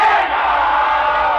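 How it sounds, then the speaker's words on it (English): A dense, loud crowd of college boys about 18 or 19 screaming and yelling together in celebration of the Japanese surrender ending World War II, a continuous massed roar of voices close by. "They're all screaming, yelling here."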